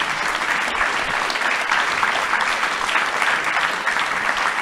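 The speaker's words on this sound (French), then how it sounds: "Et on peut applaudir les élèves aussi." An audience at a round-table event applauds students, sustained even clapping from many hands, loud and continuous without a break for several seconds.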